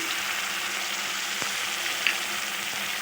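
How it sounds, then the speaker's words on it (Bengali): Mustard paste thinned with a little water sizzles in a pan of cooked-down spice mix for a yardlong bean dish, a steady close hiss with a faint clink or two. "এবার আমি এতে দিয়ে দিচ্ছি পেস্ট করে রাখা সর্ষে, আমি একটু জল দিয়ে গুলে দিয়ে দিচ্ছি"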